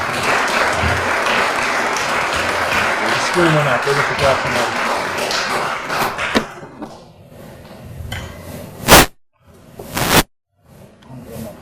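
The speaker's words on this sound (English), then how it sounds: "Give yourself a round of applause again." Conference audience at a shared parenting event breaks into loud, sustained applause, dense clapping that fades after several seconds, followed by a few sharp thumps and handling noises.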